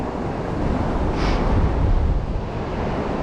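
Ocean waves breaking on a remote Northumberland beach while fishing: a constant broad wash of surf and wind rumble, swelling slightly in the middle, close and loud with no talking.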